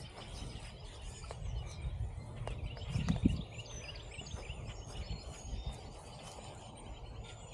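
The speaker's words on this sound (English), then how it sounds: "Noisy birds." Noisy birds outdoors, scattered chirps and twitters over a low rumble of wind and footsteps, moderately loud and fairly close, no talking.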